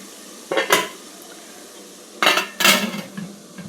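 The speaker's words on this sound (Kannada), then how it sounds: "ಇಡ್ಲಿ ಪಾತ್ರೆ ಮುಚ್ಚಿದ್ದೀನಿ" A metal idli steamer pot is handled and shut with its lid: a couple of sharp clanks, a pause, then several more close metallic knocks and rattles settling into place.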